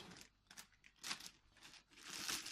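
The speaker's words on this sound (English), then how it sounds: "we gotta put the meat into a plastic bag, Ziploc bag." Quiet crinkling and rustling of a plastic Ziploc bag holding salted steak up close, coming in several uneven bursts as it is squeezed and handled.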